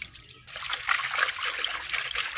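Water trickles and splashes steadily as it is poured out to soak laundry with Nirma detergent in a village home, starting abruptly and continuing close by.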